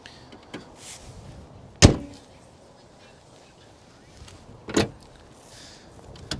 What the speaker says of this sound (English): Now let's go ahead and drop these hoods.